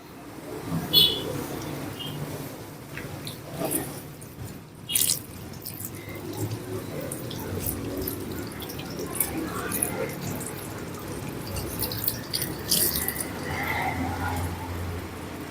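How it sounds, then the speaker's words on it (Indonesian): Tap water runs steadily into a sink while hands are rinsed during handwashing, a continuous close splashing with a few brief knocks and clatters, and a voice speaking over it. "tangan bilas dengan air yang mengalir"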